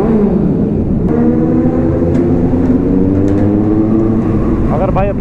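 A motorcycle engine drones loudly while riding along a mountain road on a trip to Manali, its pitch sliding down and back up with throttle changes, and a rising rev near the end.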